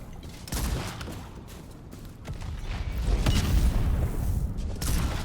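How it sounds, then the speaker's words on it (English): A cannon in Enotria: The Last Song fires heavy booms amid creaking mechanical clatter, a sharp blast early and another near the end over a dense, rumbling background. "And there's a cannon."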